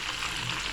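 Battered fish frying in hot oil, a steady dense sizzle and crackle heard close and continuously.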